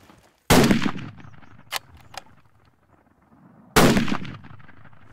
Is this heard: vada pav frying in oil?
no